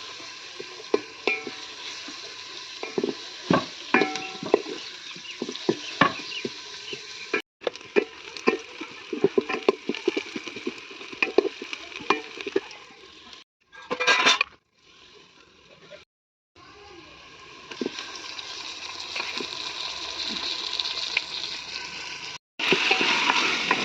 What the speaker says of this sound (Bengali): পেঁয়াজগুলো একটু ভালোভাবে লাল লাল করে ভেজে নিচ্ছি